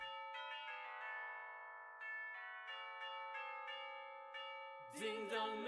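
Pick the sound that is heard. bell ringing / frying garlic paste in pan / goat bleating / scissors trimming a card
bell ringing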